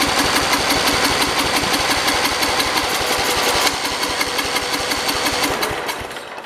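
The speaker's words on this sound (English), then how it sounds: "The engine is running." A Cub Cadet 482 lawn tractor engine runs fast and loud nearby on fuel left in the carburetor, with a rapid even chug throughout that softens and sags slightly toward the end.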